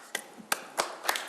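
Applause at a village board meeting in Wheeling, a handful of sharp, separate claps spaced about every third of a second, fairly close and quiet, with no voices over them.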